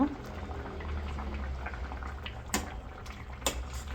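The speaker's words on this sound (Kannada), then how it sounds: "ಚೆನ್ನಾಗಿ ಕುದೀತದೆ." Radish sambar in a pot on a village kitchen stove boils with a soft, continuous bubbling, with two brief louder clinks partway through.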